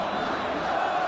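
Stadium crowd cheering in the eFootball PES 21 video game during a simulated FA Cup semi-final between Chelsea and Leeds United, a steady loud roar of many voices throughout with no distinct talk.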